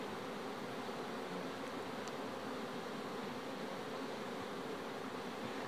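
Honey bees swarm around a packed beehive on a honey farm, giving a steady, dense hum that holds evenly throughout with no talking.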